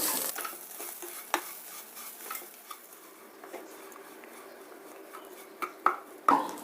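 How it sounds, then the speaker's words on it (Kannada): Moong dal and rava roasting in a pan for pongal, with soft scraping stirs and intermittent sharp clinks of a spoon against the pan over a low background; no voices. "ಹೆಸರು ಬೇಳೆ ರವೆ ಎರಡನ್ನು ಸೇರಿಸಿ ಸ್ವಲ್ಪ ಹುರಿಬೇಕು"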